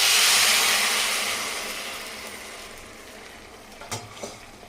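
Pulao frying in a pan as measured water is poured in, a loud broad hiss that slowly fades to a steady sizzle, with two brief clinks of the pan near the end.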